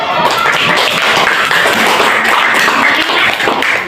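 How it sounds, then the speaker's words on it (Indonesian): Loud, close clapping from a classroom audience during a teaching practice lesson: a steady, dense patter of hands filling about four seconds with no talk. "Ya, tepuk tangan."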